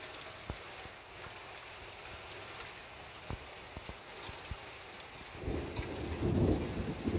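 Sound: thunder during a rainstorm

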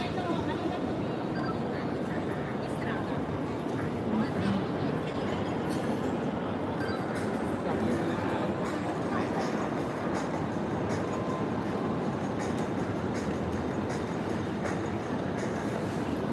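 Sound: train

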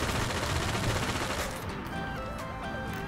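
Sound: sniper rifle gunfire in Destiny video game

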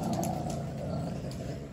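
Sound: dog growling

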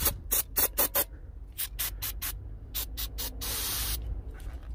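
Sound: brake cleaner spray on Honda Accord brake parts

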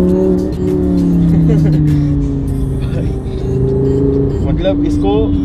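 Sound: car engine revving while downshifting in sports mode

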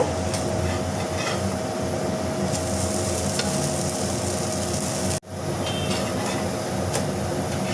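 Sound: dosa frying with oil on a pan

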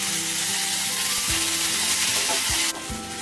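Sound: tamarind and tomatoes sautéing in a pan

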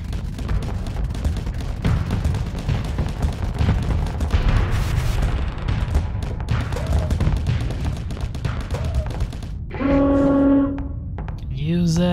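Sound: missiles hitting a ship in video game Starsector

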